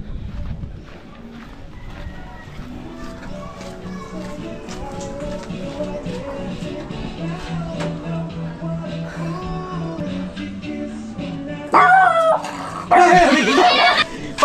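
A dog whimpers and yips in high, whiny bursts over a background hum, with sharper noisy sounds near the end.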